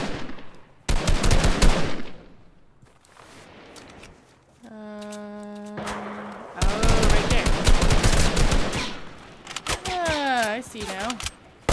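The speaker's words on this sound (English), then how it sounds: "Who are you guys shooting at?" Bursts of Fortnite gunfire, sharp rapid shots in several clusters, with players talking in between and a tonal game effect in the middle.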